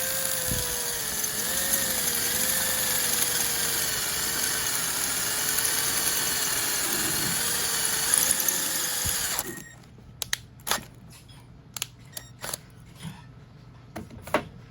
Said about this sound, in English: we started drilling this hole out